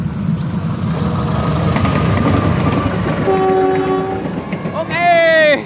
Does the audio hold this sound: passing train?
yes